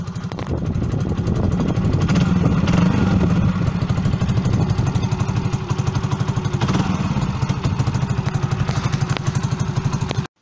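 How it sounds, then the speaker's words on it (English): Yamaha YBR 125 motorcycle with a new aftermarket exhaust, running at idle close by: a loud, steady, rapid putter with an even chugging pulse that holds for about ten seconds and then cuts off. "I'll start it up and you can hear what it sounds like with the new exhaust on."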